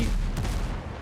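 Enemy ship's cannon fire striking the player's vessel in the pirate game Windrose, a loud dense rumbling blast with a sharp crack in the middle, all within a second.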